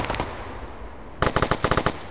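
Rapid bursts of gunfire in a capture-the-flag video game match: a quick volley of a few shots, a pause with a faint rumble, then a louder cluster of about ten sharp, evenly spaced shots.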